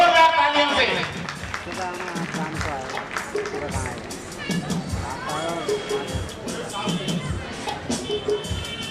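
A crowd at a Holi Milan celebration of the Aggarwal Vaish community in Greater Faridabad claps and cheers loudly and continuously, with shouts and voices mixed through the din, and talk over it near the start.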